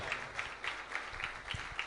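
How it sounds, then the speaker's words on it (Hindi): A church congregation claps together, brisk rhythmic hand claps that sound fairly faint and distant, with no voices over them. "यीशु के लिए जोरदार तालियां बजाएं।"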